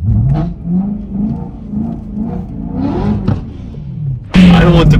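A 700 hp BMW M3 E90 driven in slushy snow, its engine pulsing through several rising revs with a loud, close surge at the end.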